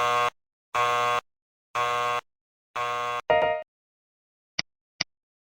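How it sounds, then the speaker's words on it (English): Process simulator low-limit alarm: four evenly spaced, harsh electronic buzzer blasts, each about half a second, followed by a short tonal chirp and two tiny clicks in otherwise silence. "An alarm sounds briefly when the process variable drops below its low alarm limit of 200"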